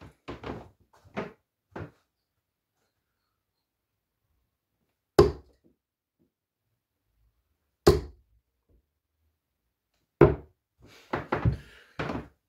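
Winmau darts, a Thibault Tricole set, strike a dartboard in sharp, isolated thuds spaced a few seconds apart, with quieter handling clicks between them and no talk.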